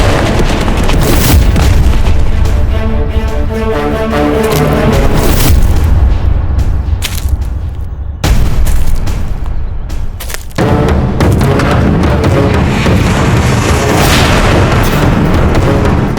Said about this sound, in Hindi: हमारी तोप से निकला हुआ गोला कहां तक पहुंचता है।